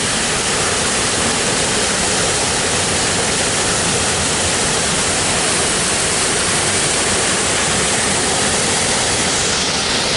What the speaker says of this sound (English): Here's another angle of one of the lower Cascade falls from these two locations.